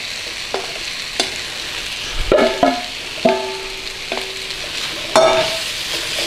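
Carrots frying in a pan for a Lancashire hot pot give a steady close sizzle, broken by several sharp scrapes and clinks of stirring, with no talking.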